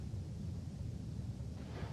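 A very large explosion sound effect in a science documentary, likened to a 20-megaton nuclear detonation: a dense, sustained low rumble that stays loud throughout, with no talk over it.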